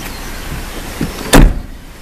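Electric windows operate inside a 1992 Land Rover Discovery, with a faint motor hum ending in a sharp thunk as the glass stops, close by and without talk.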